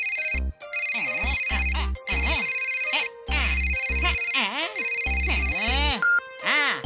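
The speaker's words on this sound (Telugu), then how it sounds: "ఇప్పుడు ఫోన్ ఎవరు చేస్తున్నారబ్బా?" A cartoon telephone rings with bright electronic tones in repeated bursts, broken by short gaps, loud and close, over a background of animated music.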